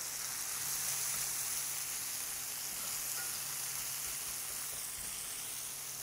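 Onions sizzling in butter in a pan as they brown, a steady, even hiss with faint crackle that holds at a constant level throughout, with no voices over it.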